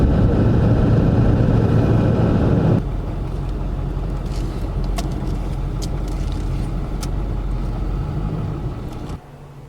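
A pickup truck sits in a $6 car wash as a loud steady rumble of spraying water and machinery fills the bay, dropping to a lower, even wash sound before easing off at the end.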